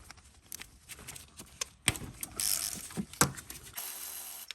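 A 14mm bolt is worked loose with a ratchet from a harness bracket on a Toyota 3.4L V6 5VZ-FE engine, giving a series of close, quick mechanical clicks and metallic scrapes that cluster and build toward the end.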